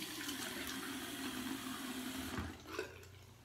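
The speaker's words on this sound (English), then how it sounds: "I wet my face" Tap water runs steadily and splashes as hands wet a face at a sink, a soft, continuous wash ending with a few faint drips.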